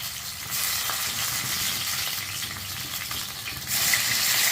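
Stuffed brinjals frying in oil over a low flame, a steady close sizzle that swells louder near the start and again toward the end, with faint clinks of handling and no talk.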